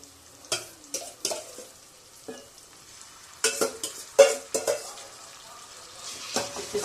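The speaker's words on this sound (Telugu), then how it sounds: "ఈ గోంగూర దాంట్లో మిక్స్ చేసేద్దాము." Boiled gongura leaves being stirred into frying onions for egg curry: a spoon scrapes and clinks against the pot in irregular bursts, with a soft sizzle between strokes, close and fairly quiet.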